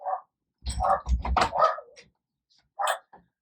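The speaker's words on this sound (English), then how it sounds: "my dog is barking" A dog barks in several loud, close bursts, a quick cluster of barks followed by a single later bark, with short silences between them indoors.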